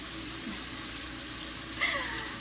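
Water streams from a kitchen faucet in a steady hissing rush, with a brief higher clink or squeak near the end over the constant flow.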